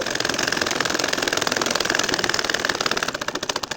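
A domestic sewing machine stitches a curved line on a nakshi kantha quilt, a fast even mechanical chatter that runs steadily and close, then briefly turns sharper and more separated near the end.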